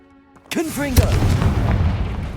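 A Confringo blasting spell in Hogwarts Legacy bursts into a loud, booming explosion with a rumbling tail. A voice is heard over the blast.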